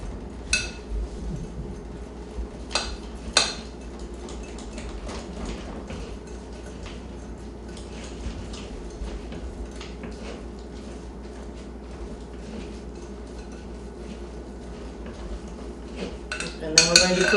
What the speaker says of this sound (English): I'm going to use a pastry blender